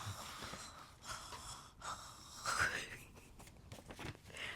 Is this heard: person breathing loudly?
yes